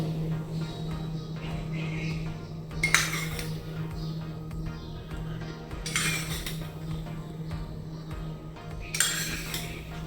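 Flour, salt and ghee being mixed in a metal bowl, with repeated clinks and scrapes of a spoon against the bowl in three distinct bursts over a steady background hum, a voice speaking faintly in places.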